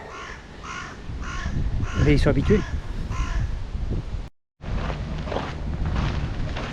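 Several crows caw loudly in repeated bursts close by in Amsterdam, while a person talks in French over and between the calls.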